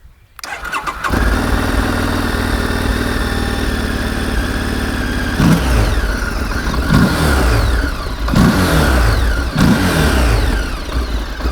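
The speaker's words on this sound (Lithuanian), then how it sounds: "prieš tai turim paklausyti, kaip šis motociklas skamba." A Morbidelli T1002VX motorcycle engine starts and runs loud and close, holding a steady throb with several sharp throttle blips and revs rising over the idle, with a strong intake roar and no talking.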